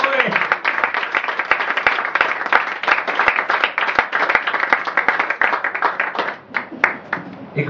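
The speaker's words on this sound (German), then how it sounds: "Und die kriegt jetzt einen riesen Applaus." An audience applauds a woman seated at the very back during a poetry slam, a dense, steady round of clapping sustained throughout, loud and close, with some voices mixed in.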